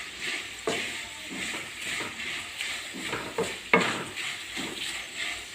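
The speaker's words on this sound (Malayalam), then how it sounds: "പപ്പടത്തിൻ്റെ സൗണ്ട് കേട്ടോ." Pappadam and potato fry in hot oil while being stirred constantly, giving a steady crackling sizzle broken by repeated scraping strokes of a spoon, with one sharper knock near the middle.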